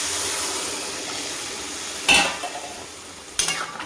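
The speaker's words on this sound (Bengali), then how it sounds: "এই গরম জলটা দিয়ে দিলাম" Hot water poured into a thickened curry of potato, pointed gourd and prawns in a pan sets off a burst of hissing, then a second splash follows, over a steady background sizzle.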